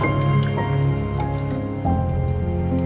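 Water is tipped from a container into a cooking pot for a vintage vegetable chowder, a loud close pour with a gurgling tone and dripping, its pitch shifting as the pot fills.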